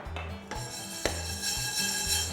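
Moong grains poured into a heated pan for dry roasting, giving a close scraping and rattling against the metal with a few sharp knocks, over a steady low hum from the kitchen.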